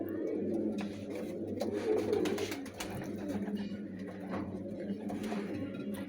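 Pigeons coo softly and repeatedly at close range in a loft, their low rounded calls running continuously beneath faint background movement, with no talking.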